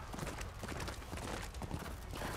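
Galloping horse hooves in the medieval combat game Chivalry 2, a steady clip-clop rhythm running throughout amid a dense battle din, with a brief whinny.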